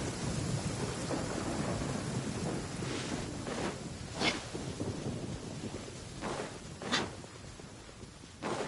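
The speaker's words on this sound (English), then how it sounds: "it does actually rain in the desert on occasion. And when it does, it's always a lot heavier than this" Heavy rain falls in a desert in Genshin Impact as a steady, soft hiss, broken by several sharp thunder cracks in the second half. The whole scene stays fairly faint.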